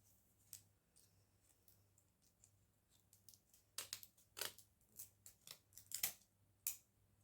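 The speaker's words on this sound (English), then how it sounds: "get your scissors and just cut all the spikes off the tops" Scissors snip the sharp points off wooden skewers for a boho-style home decor vase craft, giving a quick run of crisp, close cuts that grow louder and more frequent toward the end, with no talking.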